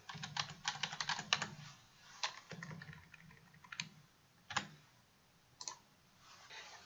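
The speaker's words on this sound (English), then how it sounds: "And they can type their answer." Students type answers on computer keyboards in quick bursts of soft clicking key presses, some rapid runs and some isolated taps, fairly quiet and close, with no talking.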